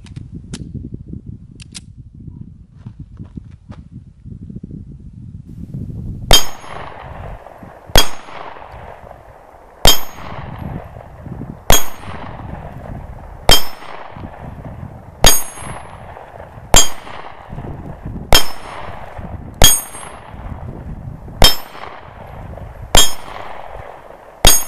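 Shots from a Canik Sting Ray-C pistol ring off steel targets: after a quiet rustling start, about a dozen sharp cracks, each followed by a bright ringing clang, spaced a second or two apart.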